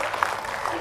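An audience at a business talk gives a short burst of scattered clapping with a few distinct hand claps, mixed with voices.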